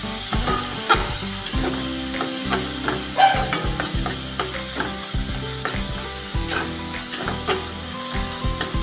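Spices with salt, turmeric, cumin and coriander being stir-fried for an egg curry, a loud close sizzle under rapid repeated spatula clanks and scrapes against the pan, with no voices.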